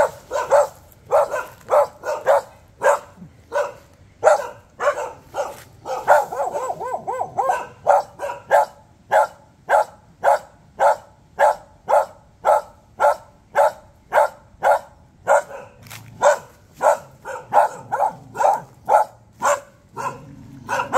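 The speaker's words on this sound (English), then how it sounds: "Doggy doesn't like me in his neighborhood" A dog on a beach in Dauin, Philippines barks steadily, one sharp bark after another in an even rhythm for the whole stretch, loud and close with no talking.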